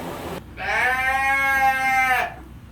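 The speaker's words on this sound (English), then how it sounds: "I know I'm back in here with the goats." A goat in a calf barn bleats once, a loud, close, sustained cry lasting nearly two seconds in otherwise quiet surroundings.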